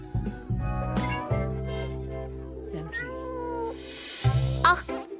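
A cat meows over a steady musical backdrop, with drawn-out, tonal mews rising and falling across several seconds, fairly close and clear.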